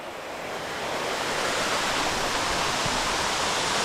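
Mibam waterfall in Oman, a desert waterfall, roars as a steady, loud broadband rush of falling water, close and continuous with no voices.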